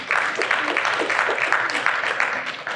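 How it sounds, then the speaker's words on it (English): Audience applause at a talk on AI safety and ethics, steady dense clapping lasting a few seconds without pause and sitting close and fairly loud. "give him a round of applause"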